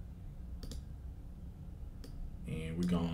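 Two crisp, separate mouse clicks place automation points on a hi-hat pattern in Logic Pro X. A voice begins speaking near the end.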